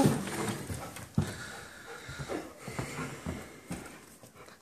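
A dog pants and snorts close by, quick breathy puffs with a few sharper snuffles scattered through, fairly quiet.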